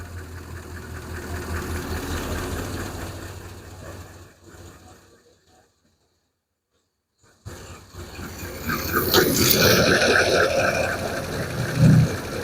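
A Hemi engine idles nearby with a rhythmic ticking, clanking knock, cuts out to silence for a couple of seconds, then restarts and runs louder with some revving.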